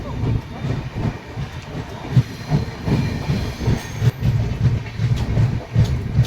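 A New Delhi–Malda Town Express passenger train runs on the rails, heard from on board as a steady loud rumble with rhythmic clickety-clack of wheels over rail joints.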